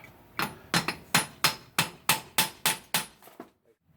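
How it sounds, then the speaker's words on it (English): A hammer taps on a part of a Toyota 7.5 front differential during a locker install, striking about nine times in a steady rhythm. The sharp metallic hits are loud and close and end in quiet. "you need a hammer to"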